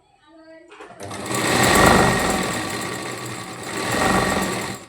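A sewing machine stitches a blouse neckline with a fast, continuous mechanical whirr that starts after a brief spoken word, swells, eases slightly, then rises again before stopping.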